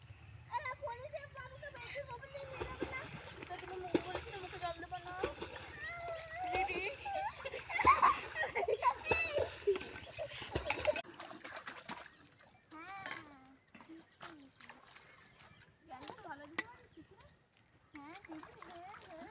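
Children swimming and splashing in water outdoors, with irregular splashes and sloshing mixed with kids' chatter, shouting, and a speaking voice throughout.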